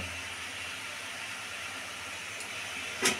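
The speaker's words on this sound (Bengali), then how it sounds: "চিনির রস ফুটছে, মায়ের মধ্যে এলাচ ফাটিয়ে দিয়ে দিল।" A pot of sugar syrup with cracked cardamom boils for a sweet, making a continuous soft hissing bubble with no pauses and a brief sharper clatter near the end.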